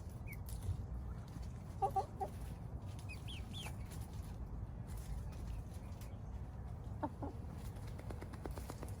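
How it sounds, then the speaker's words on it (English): Backyard flock of chickens clucking in short scattered bursts, with a few higher calls standing out over a steady low outdoor background; no one speaks. "We have integrated our new poultry with our existing flock,"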